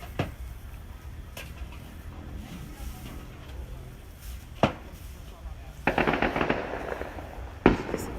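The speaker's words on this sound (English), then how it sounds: "Oh, those fireworks." Fireworks go off at a distance, producing scattered sharp pops and a couple of louder crackling bursts toward the end over low background rumble, with no clear voices.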